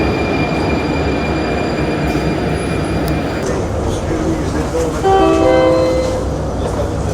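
A metro train rumbles steadily, with a brief squeal of wheels or horn-like tones near the end as someone talks quietly.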